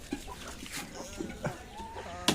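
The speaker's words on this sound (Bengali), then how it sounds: "মুরগিগুলো এই যে সকালে একটু ছেড়ে দিই" Chickens let out of their coop in the morning cluck in short, scattered bursts, fairly close, over a quiet yard with light background noise.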